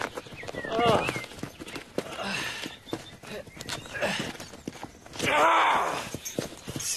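Horse hooves clip-clop in bursts on a woodland path in a French romantic film, near and uneven, mixed with rustling and people speaking.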